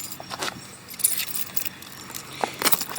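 Keys for a TaoTao ATM50-A moped jangle and clink close up, a series of bright metallic rattles over a quiet background with no talking.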